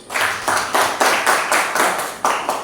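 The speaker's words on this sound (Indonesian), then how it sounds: "tepuk tangan untuk Angel dulu" A classroom of students claps in unison for a classmate during a math lesson: a loud, rhythmic pattern of sharp group claps, about ten beats in quick succession, close and without talk.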